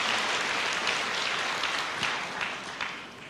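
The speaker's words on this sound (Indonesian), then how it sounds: "Kasih tepuk tangan dulu buat Indonesia" A church congregation at a Christian sermon breaks into applause, a dense wash of clapping from a large crowd that holds steady and then gradually thins and fades, heard alone without talk.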